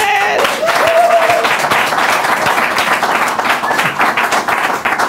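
Loud studio audience applause on a live comedy show, dense sustained clapping from a crowd with a brief voice over the start.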